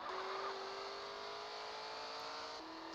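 Franklin's car from a legendary car pack mod in GTA San Andreas, its engine holding a steady whirring drone at an even pitch, then dropping slightly near the end like a gear change, loud and continuous with no talk.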